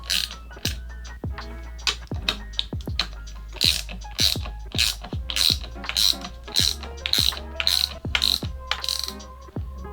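Ratchet clicking repeatedly while clamps are tightened around EVE 280Ah LiFePO4 battery cells, a steady series of sharp close ratcheting strokes running through the whole stretch.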